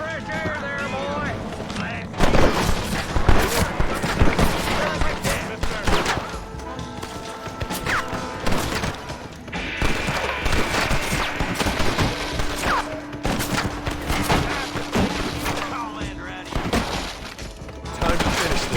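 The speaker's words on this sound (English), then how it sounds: "Unload that thing. You're shooting fresh air there, boy." Gunfire in the Red Dead Redemption game: repeated loud shots and bursts crack over a noisy action scene, with characters shouting and talking between volleys and a sustained tone rising partway through.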